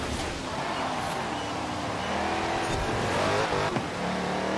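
A Charger Daytona in Forza Horizon 4 braking and cornering: a steady engine drone with tyre noise runs throughout at moderate volume, with no speech.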